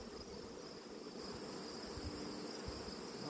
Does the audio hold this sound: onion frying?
no